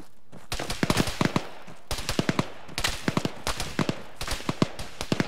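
Enemy gunfire in an ArmA 3 firefight, repeated bursts of sharp close shots in ragged volleys, three or four groups spread evenly across several seconds.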